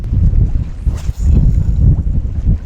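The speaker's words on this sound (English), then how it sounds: "It's windy." Strong wind buffets the microphone on a pier in Ireland, a loud, continuous low roar with gusty swells and one brief dip.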